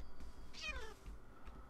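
A house cat gives a single clear, rising-then-falling meow at close range, standing alone over a low, quiet indoor background.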